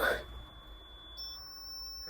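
A steady high electronic beep tone from a CAT 305 SR tracked excavator sounds, shifting to a slightly higher pitch partway through, thin and continuous, with a soft thump at the start.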